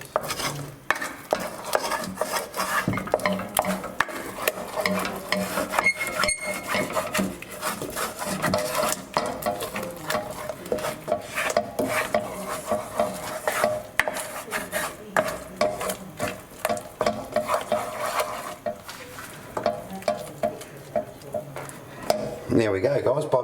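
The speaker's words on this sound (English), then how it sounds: "you'll see when I start stirring it" A spoon stirs coconut flour into a thick blueberry oat pudding mix in a bowl, giving continuous close scraping and rasping strokes with uneven rhythm, mostly alone and without talk.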